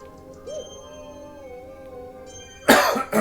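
A quiet steady hum while Super Mario Galaxy is played on Switch 2, then a couple of sharp, close coughs near the end.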